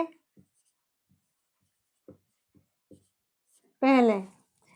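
Short, scattered strokes of writing on a board during a Hindi grammar lesson, faint and spaced out over quiet, followed by a brief burst of a voice near the end.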